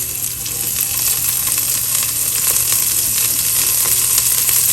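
Garlic and green chilies sizzle in hot oil with cumin seeds for an egg curry, a loud, close, continuous frying crackle with no voices.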